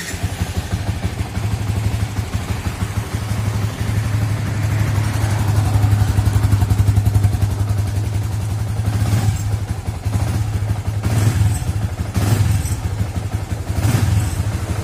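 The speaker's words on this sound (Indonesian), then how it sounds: "Ini mesin normal nyala guys." An old Yamaha Vixion motorcycle engine runs at a steady idle, with a loud, close, continuous rhythmic chug and a few sharper clattering bursts near the end.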